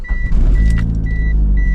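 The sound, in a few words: Mitsubishi Eclipse turbo car engine starting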